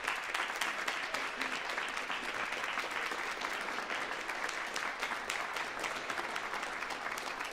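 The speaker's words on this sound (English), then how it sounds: "give a round of applause to our 3 award-winning academic advisors" Convocation audience applauding three award-winning academic advisors, a steady, fairly soft wash of clapping heard from some distance, continuous throughout without speech.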